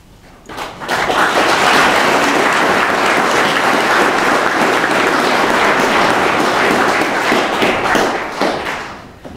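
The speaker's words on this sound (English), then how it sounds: "You're not meant to applaud me." Audience applause at a New Zealand award ceremony, a loud sustained burst of many hands clapping that swells in quickly, holds steady for several seconds, then tapers off.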